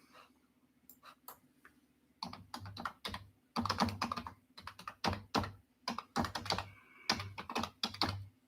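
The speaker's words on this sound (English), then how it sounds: "I can't copy that. I got to type that." Typing on a computer keyboard while entering a product search for dark brown men's cowboy boots, heard as bursts of rapid close clicking and key taps with short pauses, steady over a faint background hum.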